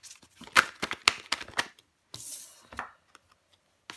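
Tarot cards drawn and handled during a reading, heard as sharp close flicks and slaps of card stock in short clusters, then a brief sliding rustle and sparse later taps.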